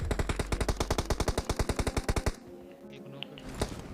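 Rapid automatic M4 rifle fire in the mobile game PUBG Mobile, a loud, steady burst of about two dozen close shots, then a short quieter tail of distant sounds.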